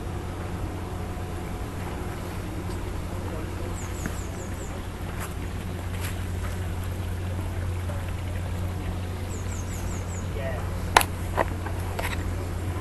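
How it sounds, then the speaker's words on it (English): Brandon Hill Park in Bristol, with a steady low generator hum and a soft wash of flowing water underneath, plus faint scattered birdsong chirps, all distant and quiet. "So there's birdsong, water,"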